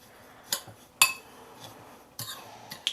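A utensil taps and clinks against a bowl a few times while a flour mixture with pepper and Italian seasoning is stirred; the light strikes are spaced apart with quiet between them.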